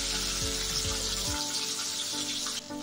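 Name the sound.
fish frying in oil on the gas stove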